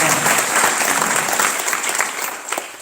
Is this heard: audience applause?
yes